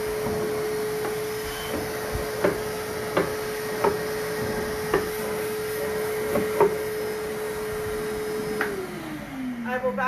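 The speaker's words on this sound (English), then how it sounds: "I pop in my vacuum hose, and now I can vacuum. I'm going to turn it on. It's going to be loud" A vacuum hose runs steadily while cleaning out a wooden drawer of a side table. The motor drones loudly throughout, with repeated knocks and scrapes as the nozzle bumps the wood, then the motor winds down at the end.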